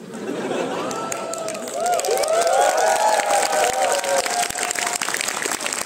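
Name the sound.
audience applause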